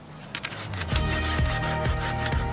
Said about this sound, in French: tu essaies de couper, de tenir ta scie à 2 mains